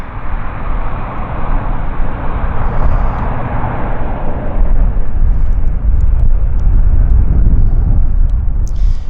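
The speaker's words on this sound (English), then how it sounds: "Private air show with a C-130 Hercules." An RCAF C-130 Hercules taking off at CFB Comox gives a loud, continuous turboprop roar that swells and stays heavy throughout.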